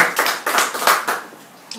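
A short burst of hand clapping at an award ceremony in Rome, a few people applauding briefly in quick, uneven claps that fade out.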